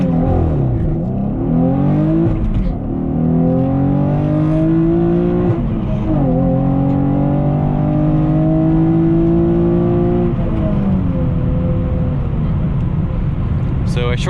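A Chevrolet Camaro launches under launch control, its engine revving hard and loud throughout as it pulls through rising gears in cold weather, with shift dips along the way.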